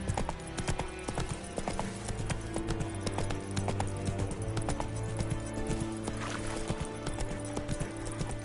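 Horse hooves clip-clopping at a fast gallop in The Witcher 3 game, a continuous rapid thudding rhythm up close, layered over game music and ambience.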